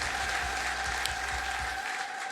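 A church congregation applauds, a dense, continuous wash of many clapping hands at moderate distance that holds steady and fades slightly at the end.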